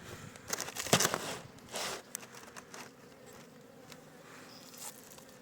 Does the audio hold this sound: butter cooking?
no